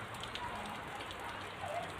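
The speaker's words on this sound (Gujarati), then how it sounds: "ફૂલ વરસાદ પડે છે." Heavy monsoon rain pours steadily in rural Gujarat near a cotton field, a dense, continuous hiss of drops drumming on surfaces at close range, with no voices.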